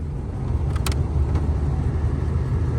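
A steady, broad whoosh of air from the air conditioning blower fan of a 1977 Pontiac Bonneville runs continuously, loud and close, with a low hum underneath.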